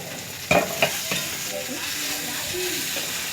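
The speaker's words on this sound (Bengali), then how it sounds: "তো আমি টমেটোটা অ্যাড করে দিচ্ছি" Tomato dropped into a hot pan of frying food hits with a few sharp clacks and stirring knocks, then a steady, close sizzle carries on alone.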